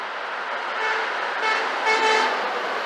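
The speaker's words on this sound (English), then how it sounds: "Oh, I had the Freightliner horn." Blaring Freightliner truck horn heard from the roadside, several sustained toots rising and falling over about three seconds, loud and fairly close amid traffic noise.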